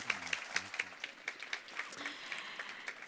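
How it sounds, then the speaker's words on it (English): Audience members at an African energy access event applaud the panelists with scattered, distinct claps forming an uneven rhythm, fairly faint and distant, with a brief voice near the start. "Can you please give my panelists a massive, massive round of applause?"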